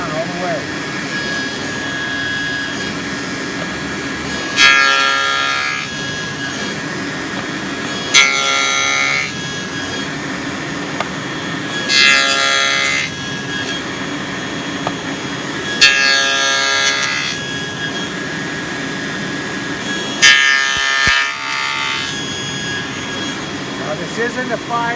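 Hand saw cutting across a wooden box in a woodworking glue-up job, heard as five separate bursts of steady back-and-forth strokes spaced a few seconds apart, with quieter gaps between them and a faint background hum.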